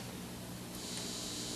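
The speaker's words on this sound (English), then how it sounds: "hear the hiss." A Teisco Check Mate 10 guitar amplifier turned all the way up gives off a steady, even broadband hiss that holds constant throughout, with no playing or talk over it.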